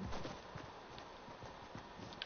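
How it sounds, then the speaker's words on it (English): Footsteps in a video game form a run of soft, close, regular clip-clop thuds over about two seconds, quiet and with no talk. "because I hear Esther footstep, bro."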